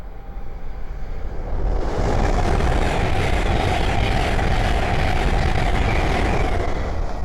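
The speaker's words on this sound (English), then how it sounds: "the next train to pass by is a Hull train 800 running 7 minutes late from Edinburgh Wakefield to London King's Cross" A Hull Trains Class 800 running late from Edinburgh to London King's Cross speeds past on the East Coast Main Line at Great Wymondley, its roar swelling abruptly after a quieter start and then holding loud and steady.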